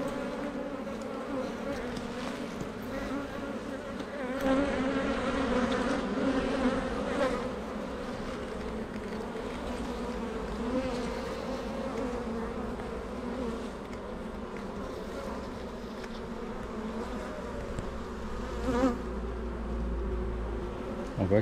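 Honeybees buzz densely around an active beehive with pollen coming in, a continuous layered drone close by that swells slightly at times, with no speech.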